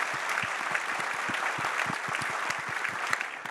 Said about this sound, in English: Can we please get a round of applause for the whole team?